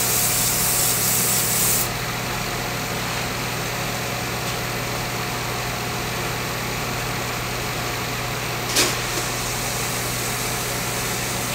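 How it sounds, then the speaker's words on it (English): Sandpaper rubs against a turned wooden stool leg spinning on a lathe, giving a steady close hiss over the continuous hum of the lathe motor. The friction sounds harsher in the opening two seconds, and there is no talk. "I just sanded to 400 grit"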